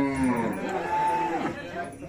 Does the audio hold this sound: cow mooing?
yes